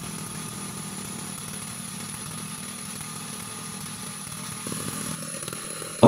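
A chainsaw engine runs steadily while felling a coconut tree, a continuous buzzing drone at an even pitch with a slight shift near the end and no talking.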